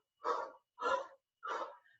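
Three quick, forceful breaths during a standing senior exercise routine, each a short airy huff separated by brief silences, close and clear with no talking.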